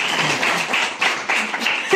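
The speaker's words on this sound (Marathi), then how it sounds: "टाळ्या." School students clapping at a Republic Day flag ceremony, a quick burst of many hands applauding together, close and steady for a couple of seconds.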